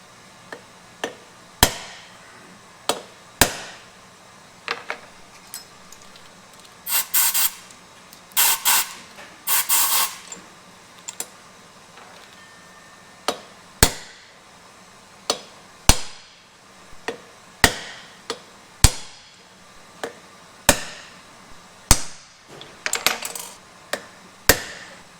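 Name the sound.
driving new valve seats into cylinder head with driver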